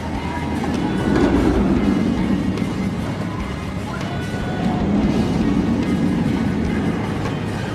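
Roller coaster trains running on the Nitro coaster at an amusement park during a winter holiday event, a broad rumbling roar with clattering track noise that swells around the middle and again late, heard from nearby.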